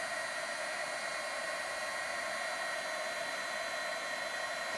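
A heat embossing tool blows a steady, loud, hissing whoosh of hot air over embossing powder until it melts. The sound runs unbroken for the whole stretch, with no talking.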